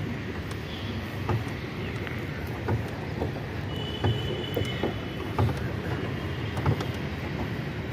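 A boat moving on Dighali Pukhuri pond in a Guwahati park, a steady low rumble and water wash with faint scattered knocks and clicks throughout, no clear voices.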